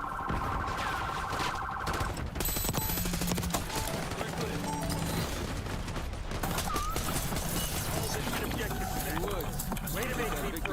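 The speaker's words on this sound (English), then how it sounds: "Shots fired!" Gunfire in Black Ops 6, loud rapid bursts of shots mixed with a blaring siren-like alarm tone, voices and game music underneath, continuous and busy throughout.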